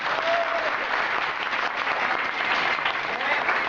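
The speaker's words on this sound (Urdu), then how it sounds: "ایک زوردار تالیاں ہوں گی" Applause for a guest during a University of Karachi Islamic department visit to a salt factory: a steady, dense roar of many hands clapping together, filling the room at close range for the whole stretch, with a voice briefly heard over it.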